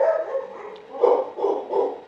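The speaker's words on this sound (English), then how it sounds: "sorry for the barking." Dog barks a few times at moderate distance over a quiet room, roughly three muffled bursts spaced about half a second apart toward the end.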